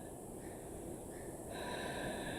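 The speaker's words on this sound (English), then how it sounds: "let's take 3 deep breaths" A deep breath in a yoga pose, heard as a brief, steady, close rush of airy inhaling over a constant hiss.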